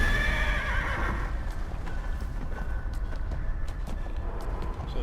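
A horse in the video game Neverwinter whinnies in a loud opening neigh, then keeps up rapid clip-clop hoofbeats at a steady gallop over a low rumble, with no voices.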